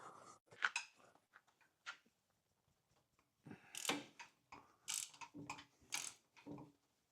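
A 22 millimeter wrench loosening a hex-shaped shaft on a farm implement gives a series of close metallic ratcheting clicks and clanks in short irregular bursts separated by pauses.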